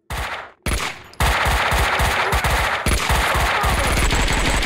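Shotgun fire in the video game Max Payne 2, heavy repeated blasts in a rapid, loud, sustained barrage, with almost no talk.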